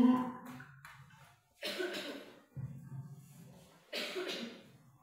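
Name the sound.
coughing from a teacher with a cold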